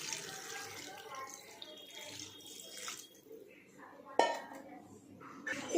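Water is poured into a pot of chicken curry with potatoes, the chicken already browned until the oil separates. A brief splashing pour comes with metallic clinks of the pot and utensils, fairly quiet and close.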